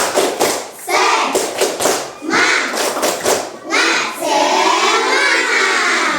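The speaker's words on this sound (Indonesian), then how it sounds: "Tepuk semangat" A primary-school class performs the 'tepuk semangat' clapping chant, children's voices and hands combining in quick rhythmic bursts of claps and thumps, then a sustained loud group shout of chanting at the end.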